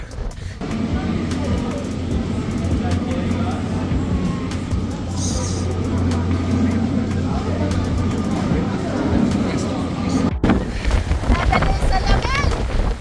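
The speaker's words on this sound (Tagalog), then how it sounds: "Sobrang hangin kung naririnig nyo" Strong, constant wind roars and rumbles against the microphone at Banff, Canada, in fall, a steady low blast with a brief dropout near the end.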